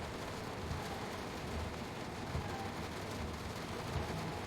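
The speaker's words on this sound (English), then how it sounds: "The rain sound didn't stop then, which was kind of weird." Steady rain in the train-driving game Train Sim World 2, heard as a constant, even hiss with faint low rumbles underneath and no voices.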